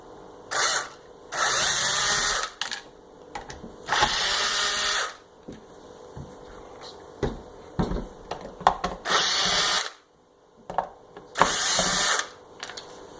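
A power screwdriver drives out T20 screws holding the motor of a Kirby Sentria II vacuum cleaner, whirring close up in five loud bursts of one to two seconds each, with clicks and handling noises in between.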